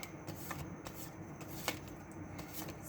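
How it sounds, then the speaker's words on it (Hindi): Tarot cards being shuffled by hand: a steady, soft papery riffle with light slaps, close and quiet, with no talking. "let me just shuffle the cards"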